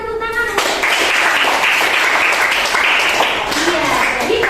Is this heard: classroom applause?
yes